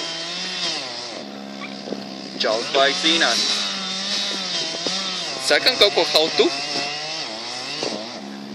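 A Stihl 361 chainsaw cuts into a stuck tree stump, its engine droning steadily throughout and revving harder in short bursts near the end, with people talking over it.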